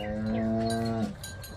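A cow on a dairy farm gives one loud, close moo lasting about a second, then falls quiet to low background noise.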